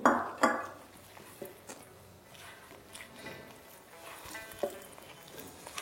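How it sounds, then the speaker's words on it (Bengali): Paste for paneer pasanda being mixed with a little water in a bowl, two sharp clinks of a spoon against the bowl at the start, then soft, faint scraping and stirring noises, close by and quiet. "অল্প অল্প করে জল দিয়ে এটাকে ভালো করে মেশাতে থাকুন"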